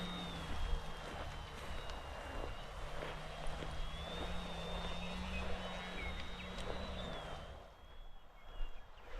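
A Durafly Tundra V3 radio-controlled plane taxis on the ground with its electric motor whining steadily at a close, moderate level, with a faint wind rumble underneath.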